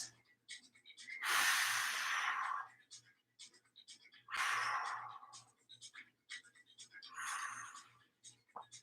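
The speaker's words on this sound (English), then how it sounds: "Three deep breaths" Three deep, drawn-out breaths during a strength workout class, each a loud rushing inhale-exhale lasting about a second, separated by quieter pauses with a faint steady hum underneath.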